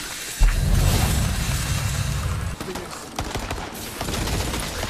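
Rapid gunfire from a weapon in the fantasy shooter Tiny Tina's Wonderlands, a dense continuous burst of shots that is loud and close and runs almost the whole time, with some game effects mixed in.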